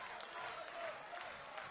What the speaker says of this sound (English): as the crowd sound their appreciation for both of these men